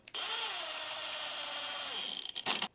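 Power drill driving screws while assembling a large toy storage organizer, one steady high whirring run of about two seconds that winds down, followed by a few clicks and rattles.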